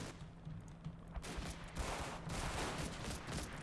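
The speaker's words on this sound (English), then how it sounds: "Sound a whole lot like a MG42 to me." German MG42 machine gun firing in the WWII game Combat Mission: Battle for Normandy, a faint, far-off continuous crackle of rapid rounds lasting throughout, with no voices.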